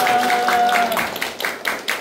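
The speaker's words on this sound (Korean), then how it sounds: "네 분에게 박수 한번 하겠습니다." A small group in a Bible meditation class claps, a brief burst of light, uneven claps heard under and after a speaking voice.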